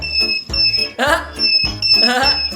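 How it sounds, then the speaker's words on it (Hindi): An electronic alarm beeps in a store, a high steady tone repeating in pulses, loud and close, with people's voices mixed in. "ये एक अलार्म है, सामने से हटो।"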